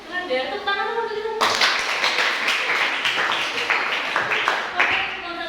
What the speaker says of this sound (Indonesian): Tepuk tangan dulu gitu.